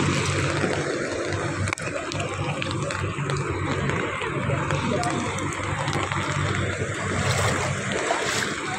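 Floodwater from Typhoon Hagupit rushes and churns in a steady, broad wash that roars close by, with wind and voices talking over it.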